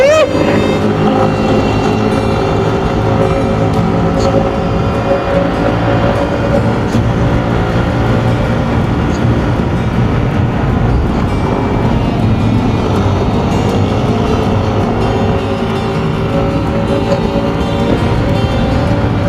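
Motorcycle engine labouring hard up a slope, a loud steady drone with a low rumble that does not let up, with people talking over it.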